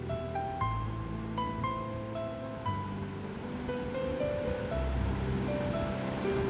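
Mustard seeds, lentils and peanuts frying in hot oil for tamarind tomato rice, giving a continuous close crackling sizzle that holds steady throughout, with music playing underneath.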